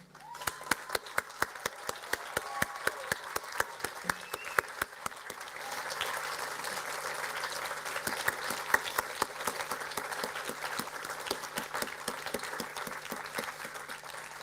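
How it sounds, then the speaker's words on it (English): Graduates at a university graduation ceremony applaud their families and friends. Sharp individual claps at first build into sustained, fuller applause that fills the hall and holds steady through the end. "we're all going to applaud your family and friends who've been helping you"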